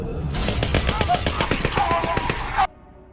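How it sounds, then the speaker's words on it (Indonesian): A loud burst of rapid automatic AK-47 gunfire, shots firing in quick succession for a couple of seconds before cutting off abruptly. "tembakan dari senjata AK-47 menghantam tubuh Venaro dari depan"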